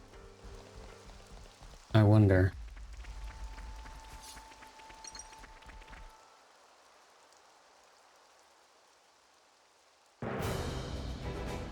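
Rain in the Xenoblade Chronicles game, a soft continuous hiss of falling drops under quiet game music, broken by a brief loud burst of sound and a near-silent gap before the rain noise returns, with a voice speaking briefly.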